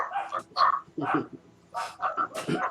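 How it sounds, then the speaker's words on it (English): Dogs barking in a game, set off by a player, several short yapping barks scattered across the moment and mixed with people talking over them. "Dogs, dogs, dogs, dogs. She set off the dogs."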